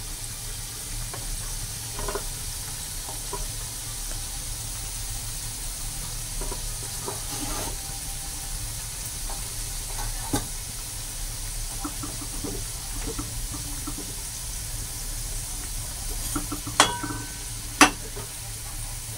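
Litti dumplings frying in a deep pan of plenty of oil, with a steady soft sizzle and crackle running throughout, a few sharper pops near the end.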